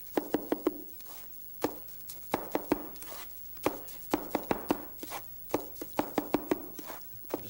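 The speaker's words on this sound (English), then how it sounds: "It takes a lot of mixing normally. We'll just mix up a little bit here." Wet mud for a mud pie mixed to a cement-like consistency, heard as a run of close, irregular slapping and scraping strokes with short pauses between bursts, no voices.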